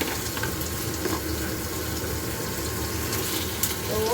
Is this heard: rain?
no